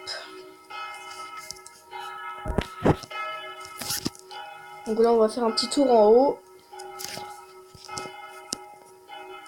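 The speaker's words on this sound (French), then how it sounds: "la cloche qui sonne, c'est celle-là" A church bell sounds in the bell tower of Notre-Dame des Sables, its struck tones ringing out a few times with lingering hum while someone talks nearby.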